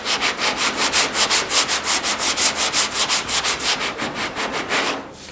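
Hand sanding of body filler on the sail panels of a GTO restomod, with a board rubbing in steady back-and-forth strokes, about twenty even swipes, close and loud before stopping abruptly.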